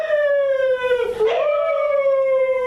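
A single dog howl in a radio play rises into a long wavering tone with a brief dip and catch in the middle, heard near and alone with no talk over it.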